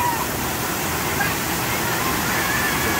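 A waterfall in Campina da Lagoa, Paraná, Brazil, roars steadily and close by, a dense, continuous rush of falling water, with faint voices barely audible beneath it.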